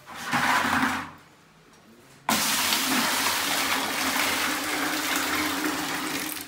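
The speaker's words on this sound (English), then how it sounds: "That's a fresh bucket of water." Fresh underground-stream well water pours and splashes loudly into a bucket up close. A burst of gushing gives way to a brief lull, then a steady heavy rush of water that continues to the end.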